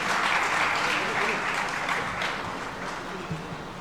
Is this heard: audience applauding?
yes